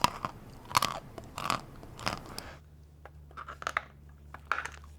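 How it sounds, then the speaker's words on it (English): Edible chalk is bitten and chewed up close, giving several loud, sharp crunches in a quick run, followed by softer, moist chewing crackles over a low steady hum. "I guess the crunch in and of itself is somewhat ASMR."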